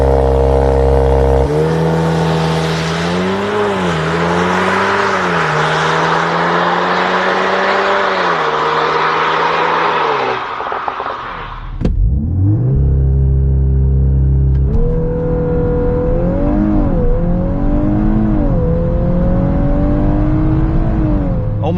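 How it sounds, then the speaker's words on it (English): A Golf MK8 R launches hard from a standstill on wet tarmac, its engine roaring loud and close as it climbs through gears, with a sharp break at each shift before the revs rise again. "So let's kick it off with a 0 to 100 launch control."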